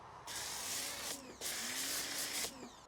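A pressure washer sprays down a dirty used 2015 Polaris RZR 900 Trail, producing a steady, close hiss of water with a whining pump tone and a brief break in the spray partway through.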